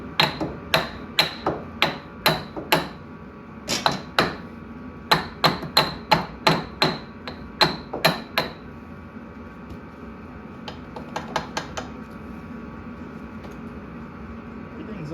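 A hammer strikes metal parts on a blown snowmobile engine during piston removal, landing about fifteen sharp, ringing blows at an uneven beat, followed by a quicker, softer cluster of taps.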